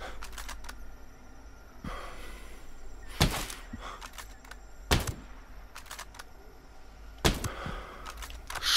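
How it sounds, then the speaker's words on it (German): Three sharp, loud gunshots ring out a couple of seconds apart in the Ghost Recon Breakpoint video game, with softer clicks and a steady low ambient rumble between them. "Die wissen natürlich, von wo der Schuss kommt"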